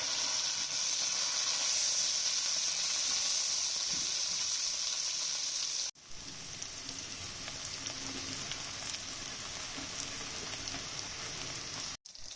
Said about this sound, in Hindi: इसके अंदर भिंडी को फ्राई करूंगी